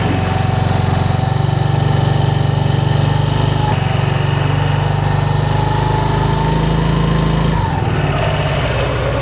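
A Yamaha NMAX Techmax scooter engine fitted with a UMA back-pressure muffler holds steady at 3,000 RPM, a loud, continuous, even drone close by that drops slightly near the end.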